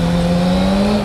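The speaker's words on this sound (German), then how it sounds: "Oder Wheelspin." Loud, close car engine at high steady revs with a strong droning tone during wheelspin on a street in Vienna, sustained without a break.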